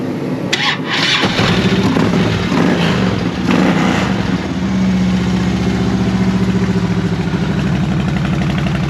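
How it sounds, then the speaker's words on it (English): A 2021 Harley-Davidson Road Glide motorcycle engine starts and settles into a loud, steady, lumpy idle with a deep rhythmic throb, close by. "One of the best sounding Harleys I'd heard."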